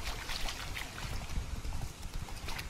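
Steady clip-clop of horse hooves at a walking pace in the video game Witcher 3: Blood and Wine, fairly close, over a continuous rushing background noise.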